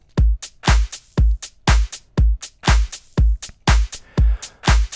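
Programmed house drum beat playing back in Cubase, a steady four-on-the-floor kick with hi-hats on the offbeats, loud, punchy and evenly repeating with no voices.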